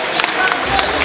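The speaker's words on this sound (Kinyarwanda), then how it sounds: "mubamera amashyi menshi cyane" A dense crowd claps and cheers at a lively Rwandan gathering, a steady wash of applause with scattered sharper claps and shouts throughout.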